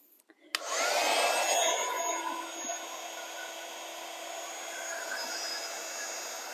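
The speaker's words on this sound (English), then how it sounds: "Let's bring my heat tool back in." A craft heat tool switches on with a click and blows a loud, steady whooshing roar close by, easing slightly after the first couple of seconds and continuing without pause.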